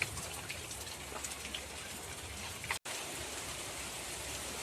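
Rain falls steadily and evenly for the whole stretch in a broad, constant hiss of drops on surfaces, broken only by a split-second dropout near the end.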